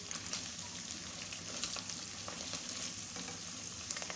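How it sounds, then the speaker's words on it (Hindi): Chicken with green chillies fries in a pan with a steady, close sizzle and light crackling, carrying on evenly with no talking. "चिकन को हमने 2 से 3 मिनट फ्राई किया है।"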